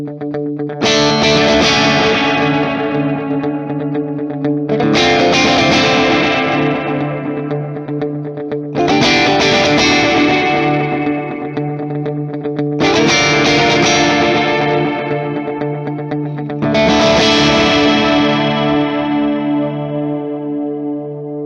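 Electric guitar runs through a Universal Audio UAFX Starlight delay pedal, five loud strummed chords spaced about four seconds apart, each ringing out with lush repeating echoes and a slow decaying tail.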